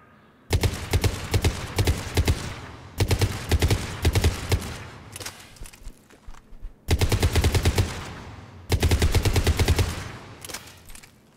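Cerberus Harrier rifle in Mass Effect 3 firing on full auto in four long, loud streams of rapid shots, each with a ringing tail and short pauses between them, close and with no talking.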